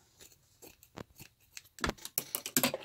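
Scissors snip through fabric while trimming a lined tote bag, a series of short, close, crisp cutting sounds that speed up toward the end.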